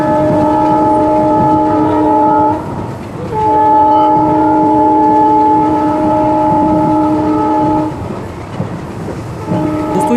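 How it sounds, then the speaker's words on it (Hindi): A passenger train running between Abohar and Fazilka sounds its horn in long, steady tones, loud and close, over the continuous rumble of the moving train, with a brief pause in the horn partway through. "ये ट्रेन अबोहर से फाजिल्का के बीच में लगभग 43 किलोमीटर की दूरी तय करती है 48 मिनट में"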